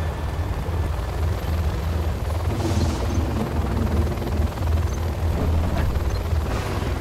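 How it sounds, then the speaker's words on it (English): A Helix transport helicopter in the Command & Conquer Generals video game gives a loud, steady rotor and engine drone that runs unbroken throughout. "Our Helix 2 airship is a slow transport helicopter that can carry infantry or a single vehicle."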